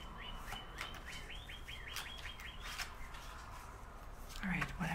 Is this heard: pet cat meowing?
no